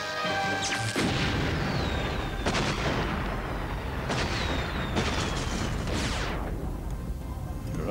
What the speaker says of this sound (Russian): Взрыв!